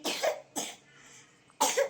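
A small child coughs three times, two quick close coughs and then a third after a short pause, each a sharp, nearby burst in otherwise quiet surroundings.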